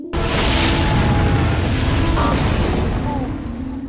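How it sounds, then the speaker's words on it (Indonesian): A big explosion in a battle scene of a fantasy film, a loud sustained roaring boom with rumbling debris that fills the whole few seconds before slowly tapering off. "Ledakan besar menguncang tanah"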